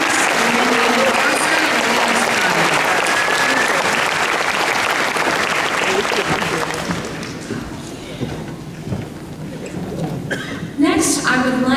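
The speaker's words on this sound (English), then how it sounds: "Let's give another round of applause for our student speakers." A large crowd applauds loudly and continuously for student speakers at a graduation hooding ceremony for an educational psychology and counseling department, with the clapping thinning out toward the end and a voice briefly heard.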